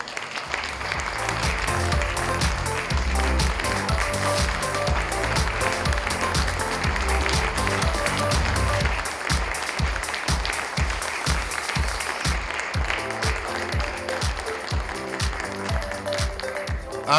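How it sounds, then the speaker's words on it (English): Audience applauding at an award ceremony, a dense, sustained wash of clapping heard up close and loud for the whole stretch, thinning into more distinct individual claps near the end. "I'll be sure to stand up and applaud, just like all of you did"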